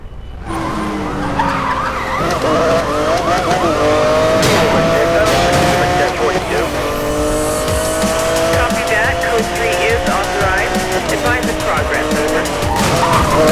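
In Need For Speed: Most Wanted 2012, a game car's engine revs while its tires squeal in long skids through drifting and hard braking, loud and close, with a voice talking over it.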